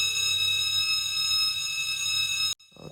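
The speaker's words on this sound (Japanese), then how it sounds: "火災報知器が鳴っている。" A cartoon fire alarm bell rings loudly and steadily as a sustained electronic tone, then cuts off abruptly near the end, leaving a brief softer sound.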